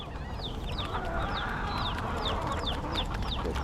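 Hungry chickens crowd in and cluck continuously, a dense layer of overlapping short calls and chirps from a flock at feeding time in the Florida Keys, with steady background hum.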